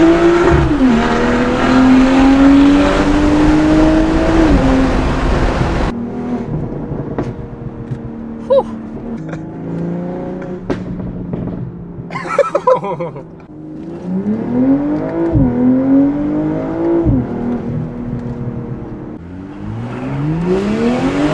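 A BMW G42 M240i with a Valvetronic exhaust and downpipe revs hard with the windows down among buildings, loud rising engine sweeps, gear changes and sharp exhaust cracks and pops heard from inside the car.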